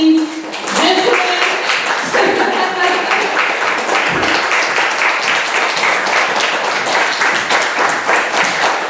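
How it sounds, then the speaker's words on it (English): Audience applause as everyone is clapped back in at a survivor-story monologue event, dense sustained clapping from a crowd, loud and continuous throughout. "let's clap everybody back in"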